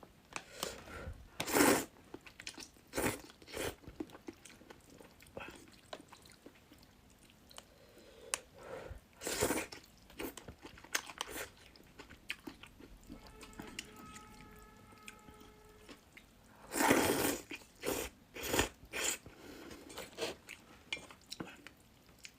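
Spicy river snail noodles with tofu skin being eaten up close: wet chewing, slurps and soft squishy bites in irregular bursts, with a louder cluster near the end and faint clinks of utensils.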